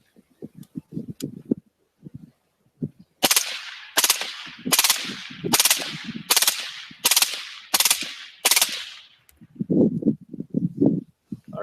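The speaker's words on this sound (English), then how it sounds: "it's just me shooting some full auto stuff with a suppressor" Full-auto bursts from a suppressed .223 rifle fitted with a Yankee Hill suppressor and a battle trigger at an outdoor range, about eight loud sharp volleys in rapid succession, bracketed by quieter rattling handling sounds before and after.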